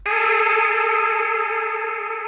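A vocal sample in a music production project, heard as a single sustained sung tone with a bright, harmonic-rich timbre, held steadily and close for a couple of seconds with effects-processed sheen and slight echo.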